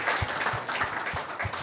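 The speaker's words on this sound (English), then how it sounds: "Let us clap for them." An audience at an evening Banyamulenge community gathering claps for the parents, a brief burst of steady applause with a regular, rhythmic beat running through it.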